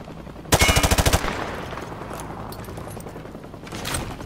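Call of Duty Modern Warfare 2 Remastered shooting range: a loud, rapid burst of automatic gunfire of about eight shots, fired at a target through a wood panel, then a fading reverberant tail and a soft rumble.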